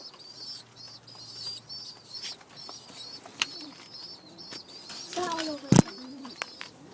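Pigeons kept in a loft, including a high flyer and a tumbler, coo softly and repeatedly, with occasional sharper calls, a brief flutter and a loud close clatter near the end, while someone talks over them.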